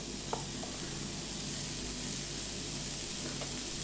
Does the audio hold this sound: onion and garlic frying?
yes